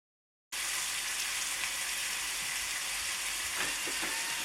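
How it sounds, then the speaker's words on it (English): Bacon sizzles and fries in a hot pan with a steady, close crackling hiss, and a few brief clicks come near the end. "So I'm gonna just turn on the fire here and put on the bacon."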